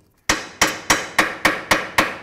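Eight sharp, evenly spaced hammer blows ring out loud and close as a ball joint is driven into the front lower control arm of a 2008–2012 Ford Escape, after a brief silence, with no speech.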